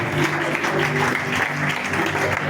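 A church congregation claps and applauds together for a few seconds, producing dense and fairly loud clapping with a faint murmur of voices beneath it.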